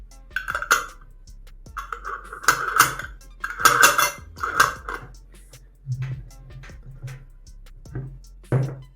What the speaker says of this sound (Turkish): Şimdi ağzını sıkıca kapatalım.